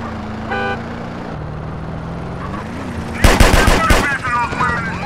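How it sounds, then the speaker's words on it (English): Drive-by gunfire in GTA San Andreas from a Mercedes-Benz G500 4x4² Mansory: a loud, rapid burst of shots rings out over a running engine hum after a quieter stretch of game sounds. "Man, I can't shoot with you going that fast"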